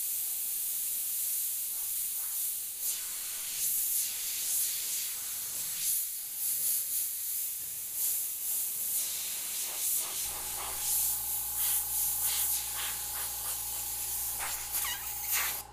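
Continuous hissing spray of an airbrush, steady and close, with a low electronic hum joining in near the end.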